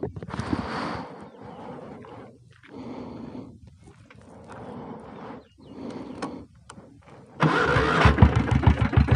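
Royal Enfield Bullet diesel motorcycle with self start, bursts of engine cranking and low chugging in short spells, then a louder, busier engine roar near the end as it fires up close by.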